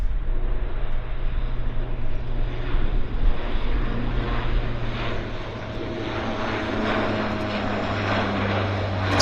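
Propeller airplane engine drone from a taildragger near an airport, a steady loud rumbling hum with slow swells in intensity, continuous throughout with no voices.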